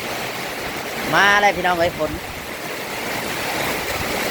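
Heavy rain pours during a storm in a steady, broadband roar that never lets up, while someone talks loudly over it for a moment near the middle.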